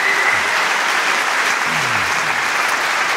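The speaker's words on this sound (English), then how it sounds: "So let's hear it from Mark and Bev and the MVT, please" Audience applause fills a venue at a conference keynote, a steady, loud wash of clapping that holds throughout.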